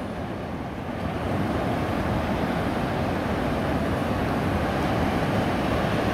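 Sea waves roll onto a sandy beach at Taşucu at night, a dense continuous rushing roar that swells slightly after the first second and stays loud and close throughout, with no voices.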